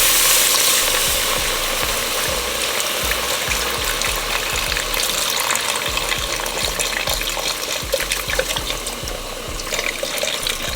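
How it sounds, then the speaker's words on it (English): Beef broth goes into a hot pot with flour and cooks there, giving a loud, continuous sizzle and bubbling hiss throughout, close up and unbroken. "Now we're going to throw in our beef broth or beef stock."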